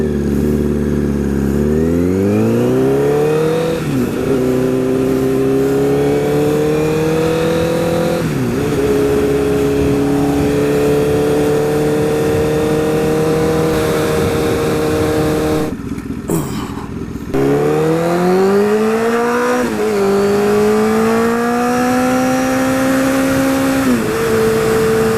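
A 2012 Honda CBR1000RR fitted with a Tochi exhaust revs loudly and close, the engine pitch climbing and settling several times over a steady, throaty idle, with no talking.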